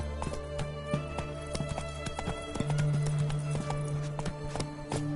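Hooves of the horse Roach clip-clop in a fast, steady galloping rhythm within a video game, close and continuous, with faint game sounds underneath.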